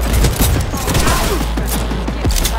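Gunfire in the video game Cyberpunk 2077, a dense rapid fusillade of loud close shots with booming low-end rumble, continuous through the short stretch with a voice faintly underneath.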